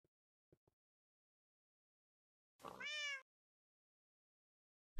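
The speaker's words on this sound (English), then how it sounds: "Shut up, cat." A cat in Minecraft lets out one clear, drawn-out meow after a few faint clicks, close and alone against silence.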